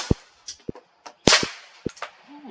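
Two suppressed shots from a Taurus TX22 Competition .22 pistol fitted with a Silencer Central Banish 22 can, fired at a bulletproof vest target: sharp, fairly quiet cracks spaced apart, each followed by a faint metallic tick, close by.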